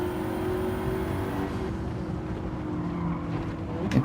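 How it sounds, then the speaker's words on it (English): Race cars in Gran Turismo 7 slide sideways through a corner during an online lobby race, their engines droning steadily with a loud, continuous tire-and-motor roar and a brief rise near the end. "I'm loving some of this sideways action from all these cars around here."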